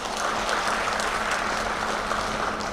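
Participants at a National Science Day celebration at Adikavi Nannaya University clap together in a hall, a continuous, even wash of applause from a large crowd with no pauses.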